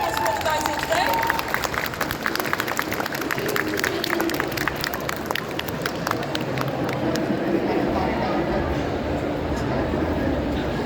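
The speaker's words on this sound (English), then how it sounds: "Thank you, big round of applause for all the guys here today." A comic con crowd at MCM London applauds the Project Dalek team: steady, dense clapping fills the hall for about eleven seconds, with a murmur of voices and crowd noise mixed in.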